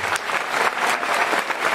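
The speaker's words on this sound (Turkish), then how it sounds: "sanatçı dostlarımıza ve elbette ki Nazım'a kocaman bir alkış." Audience applause closes a performance event honoring artists: dense, steady clapping from a full room, held at a constant level throughout the short burst.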